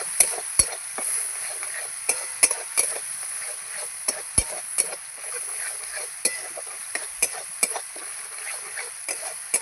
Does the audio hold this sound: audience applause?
no